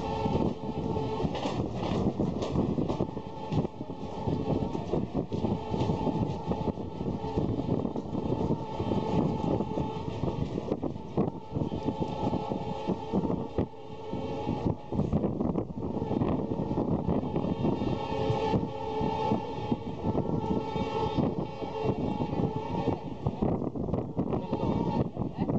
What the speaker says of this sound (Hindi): हमारी ट्रेन जो है अब स्पीड पकड़ना शुरू कर रही है।